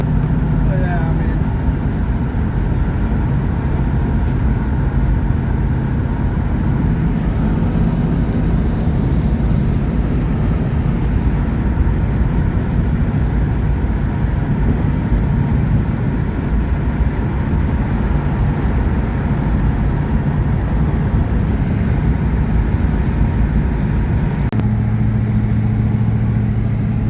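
A 1970 Buick GS cruises on back roads, its engine and road noise forming a continuous loud drone from inside the car, with a voice talking over it throughout.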